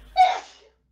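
A person sneezes once nearby in a single sharp burst that fades within half a second, with no talk alongside.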